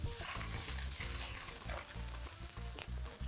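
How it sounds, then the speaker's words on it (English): A smash burger patty cooking in a pan over medium-high heat, giving a constant loud hiss and crackle with a low rhythmic thumping underneath, near and uninterrupted. "I'm gonna let this burger cook over this like medium, maybe medium high heat"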